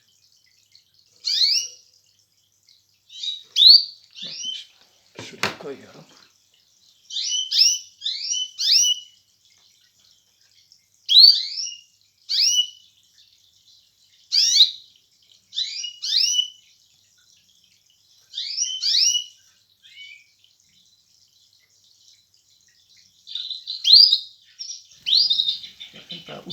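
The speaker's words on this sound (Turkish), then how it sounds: "Açıyorum şimdiki kuşun kendi ses kaydını" Bursts of high, rapid bird chirps from a recording of the bird's own call played back repeat in clusters with short gaps, clear and fairly close, with a brief low thump and a few spoken words early on.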